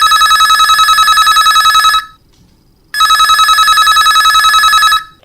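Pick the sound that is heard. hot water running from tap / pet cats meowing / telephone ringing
telephone ringing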